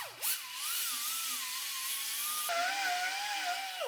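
A power tool whines at a high, steady pitch while lightly smoothing the rough edges of stainless steel, its tone dipping briefly at the start and shifting lower partway through, loud and close with no talk.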